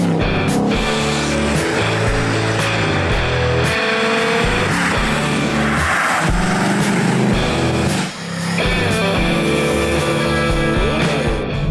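A Ford Mustang cabriolet drives hard and accelerates, its engine roaring loud and close with rising and falling revs and a short dip in power partway through, and no one talking.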